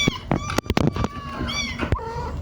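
Kittens mew in short, high-pitched cries, several overlapping calls in quick succession close by, with scuffling and handling noises between them.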